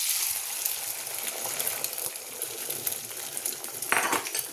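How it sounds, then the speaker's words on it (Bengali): Beaten egg with pepper and chili flakes hits hot oil in a wok and fries with a steady, bright sizzle. A spatula scrapes and clinks faintly now and then near the end. "কড়াইটা গরম হয়ে গেছে, এবার ডিমটা আমি ঢেলে দেবো।"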